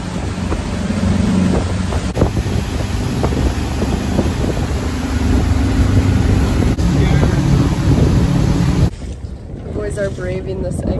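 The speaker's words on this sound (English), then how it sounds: "we're back out on the boat" A boat motors across Lake Powell near a canyon mouth, a steady loud engine drone mixed with rushing water and heavy wind buffeting the microphone; the roar drops away sharply near the end.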